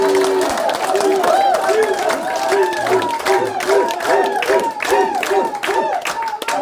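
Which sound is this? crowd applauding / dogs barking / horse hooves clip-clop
crowd applauding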